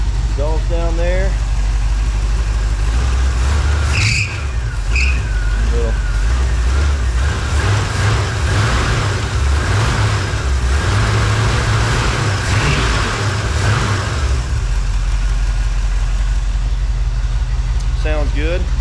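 A 1980 Chevrolet Camaro engine runs at a steady, loud, low idle with a whining top note and some brief rising blips, while someone talks over it throughout.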